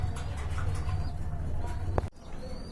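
A pair of brown pigeons kept for sale coos in low, throaty repeated calls, close by, ending with a brief sharp knock.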